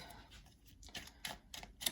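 A box of playing cards is handled up close, giving quiet, irregular papery rustles and small clicks in several short bursts.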